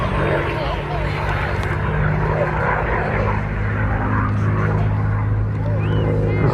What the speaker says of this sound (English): here we have Brian Bethel and the North American P-51D Mustang